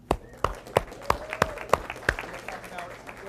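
An audience at a live business speech in Austin claps, sharp separate claps ringing out in an uneven rhythm that slowly thins, with talk going on beneath them.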